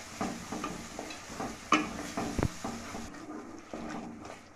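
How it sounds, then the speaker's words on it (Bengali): A spoon stirs spice masala frying in oil in a pan for a vegetarian cauliflower rezala, making soft scraping strokes over a low sizzle, with a sharp clink of utensil on pan partway through and no talking. "যতক্ষণ তেল ছাড়তে না শুরু করে মশলাটা থেকে, ততক্ষণ এইভাবে নেড়ে যেতে হবে।"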